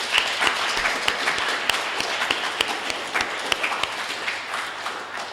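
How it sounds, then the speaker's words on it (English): Steady audience applause fills a Transgender Day of Remembrance live event, recognising a volunteer media team. Dense, even clapping rings out with a few sharper individual claps standing out close by. "if we could give them a round of applause"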